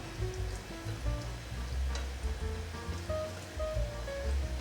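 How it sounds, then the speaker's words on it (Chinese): Potato pieces frying in hot oil and being turned to brown the other side, a dense continuous crackling sizzle with faint bubbling, steady and close, with no voices. "另一面给它炸成金黄色， 每一面都变成金黄色了。"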